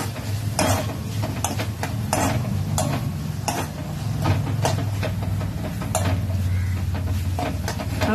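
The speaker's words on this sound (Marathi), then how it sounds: "हा कांदा व्यवस्थित परतून घ्यायचा." Sliced onion stirred and sautéed in a hot pan for bheja fry, with a steady sizzle under repeated scraping strokes of a spoon against the pan, close and continuous.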